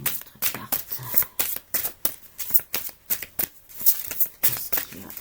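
Tarot cards being shuffled in a rapid series of crisp riffling bursts and slaps, close and moderately loud, with no talk.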